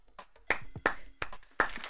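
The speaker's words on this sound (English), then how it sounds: "Can we get some claps?" Sparse, sharp claps in a small talk-show studio, about four crisp hits spaced roughly evenly, fairly close and dry with quiet gaps between.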